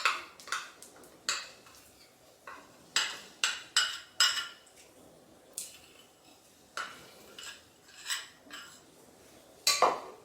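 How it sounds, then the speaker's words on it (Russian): Thick honey being stirred in a metal pot on the stove, a spoon scraping and clinking against the pot in irregular strokes, close and clear with no talk. "Мед отправляю в кастрюлю и ставлю на плиту."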